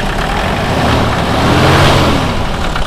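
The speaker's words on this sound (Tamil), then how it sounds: "ரேஸ் பண்ணு." An SUV engine revs in a workshop, a steady loud mid-pitched roar that swells slightly in the middle of the stretch, with no voices over it.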